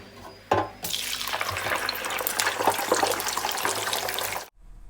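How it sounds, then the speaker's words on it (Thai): Mackerel sizzles as it drops into hot oil, a sudden loud hiss that swells into a steady, crackling frying roar, close by, for several seconds before cutting off abruptly. "ทอดด้วยน้ำมันที่แห้งนะจ้าทอดปลาทูเพราะว่ามันจะได้กรอบๆจ้ะพี่น้องจ้า"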